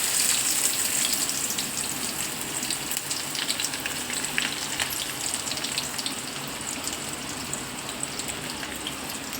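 Chopped onion fries in a hot pan for a home-style Malvani prawn masala, giving a continuous, dense crackling sizzle that stays steady and close throughout.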